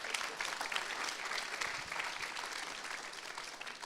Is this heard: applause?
yes